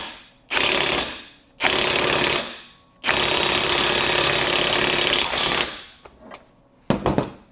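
An impact gun hammers at the rear hub of a 1960 Triumph TR3A, firing in three loud, rattling bursts, the last one long. A couple of short, sharp mechanical knocks follow as it stops.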